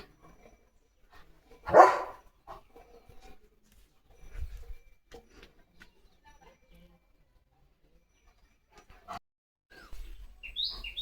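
Leo the dog gives a single loud bark near the start, then only faint scattered sounds follow, with birds chirping near the end and people talking quietly in the background.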